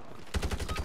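Rapid automatic gunfire in the shooter game Warzone MW3, a quick run of evenly spaced, punchy shots starting abruptly after a short quiet moment, close and fairly loud.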